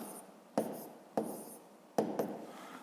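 Numbers written by hand during a fifth-grade maths exercise, three short bursts of pen or chalk strokes with quiet pauses between them, close and faint.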